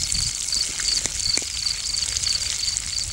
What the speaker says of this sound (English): Even sounds like rain.